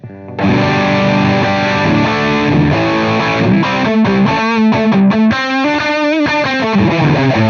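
Electric guitar through a heavily driven Suhr PT100 amp plugin: a loud, saturated chord rings on steadily, then gives way to fast distorted single-note riffing without pause.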